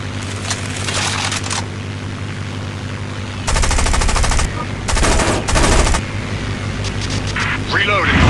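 Rapid machine-gun bursts from aircraft in the War Wings combat video game, several loud sustained volleys separated by short gaps over a steady engine drone, with a final burst near the end.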